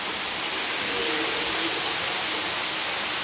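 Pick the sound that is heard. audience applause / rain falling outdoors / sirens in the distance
rain falling outdoors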